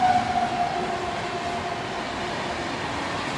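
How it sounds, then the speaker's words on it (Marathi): Train rolling steadily along a nearby railway track beside student housing, a loud continuous broadband rumble and rattle with a faint tonal whine, no talk over it. "हे ट्रेन कंटिन्यू रात्री दिवस चालू असते"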